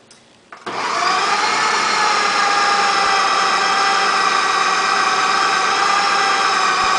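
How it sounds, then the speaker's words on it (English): A kitchen mixer or food processor whirs into peanut butter truffle dough, starting abruptly after a brief quiet moment and then running as a loud, steady motor drone to the end. "you can do a mixer or a blender or a food processor."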